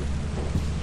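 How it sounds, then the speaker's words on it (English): Steady rain with low rumbling thunder in the video game Lethal Company, a dense continuous wash with a slight swell near the end, no voices. "It's raining."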